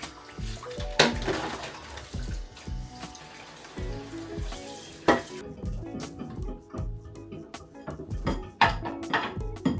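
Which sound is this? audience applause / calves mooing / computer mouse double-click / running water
running water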